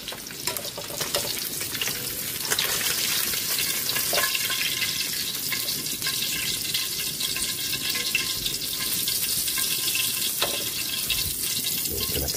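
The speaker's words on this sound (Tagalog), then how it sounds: "Check na rin natin yung ating pritong isda." Fish fries in hot oil, a loud, close, continuous sizzle and crackle with a dense hissing wash that holds steady throughout.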